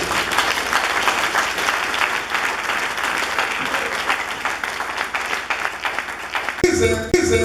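A church congregation applauds during a sermon, a sustained, dense clatter of many hands that continues almost to the end before giving way to a few sharper sounds.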